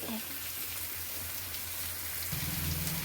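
Rice boils in a pot as part of cooking a chicken curry meal, giving a steady rain-like bubbling hiss over a low hum, with a faint voice near the end.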